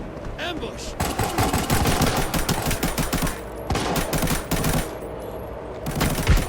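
Full-auto gunfire in the mobile shooter game Arena Breakout: rapid sustained bursts of automatic weapon fire crackling loudly for several seconds, with brief pauses between volleys.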